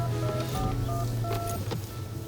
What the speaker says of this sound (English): Let me get Mary on the phone